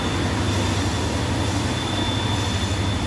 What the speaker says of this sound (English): Now they got a train going by back there, so bear with me.